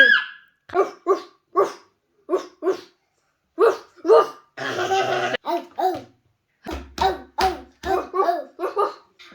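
A voice imitates a dog with a series of short, sharp barks in quick bursts, mixed with laughter nearby.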